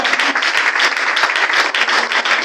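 A church congregation at a worship service claps and applauds loudly and continuously, a dense crowd of overlapping handclaps close by.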